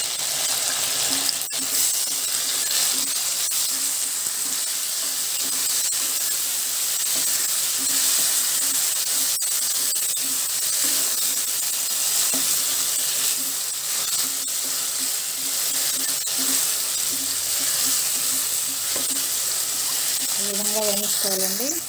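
Tomato pieces, finely chopped, frying in a pan for Rayalaseema-style uggani, giving a steady, close sizzle and hiss throughout with occasional stirring clinks, and no talk over it.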